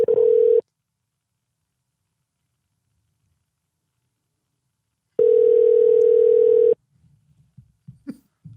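Outgoing phone call to a Sonic restaurant, with two loud electronic ringback tones separated by a long silence, followed by faint clicks and a quiet muffled sound as the line is picked up.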